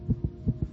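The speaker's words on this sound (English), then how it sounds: "This is the sound of a racing heart." A young child's fast heartbeat thumps in paired beats, two double-thuds in under a second, low and muffled over a faint steady hum.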